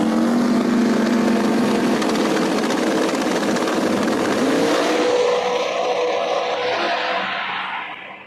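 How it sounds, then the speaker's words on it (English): No-prep drag race cars at Epping, New Hampshire roar down the strip together, a loud sustained engine blast that holds steady for most of the clip, then thins and fades away in the final moments. "Oh, and that was a drag race"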